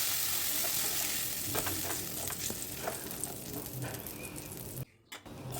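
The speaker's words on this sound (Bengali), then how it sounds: "তেলের মধ্যে দিয়ে দিলাম থেতো করে রাখা রসুনগুলোকে কয়েক সেকেন্ড একটু ভেজে নেব হালকা লালচে করে" Crushed garlic frying in hot oil in a wok after aubergine and potato were fried, a steady close sizzle with scattered stirring scrapes and a brief break near the end.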